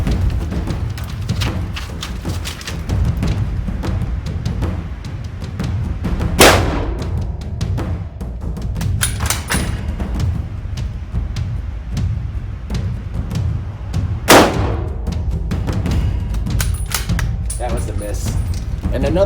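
Two sharp Argentine Mauser 1909 bolt-action rifle shots ring out about eight seconds apart, each a loud crack over steady background noise and wind.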